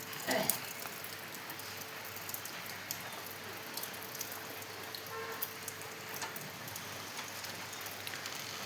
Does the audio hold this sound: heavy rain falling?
yes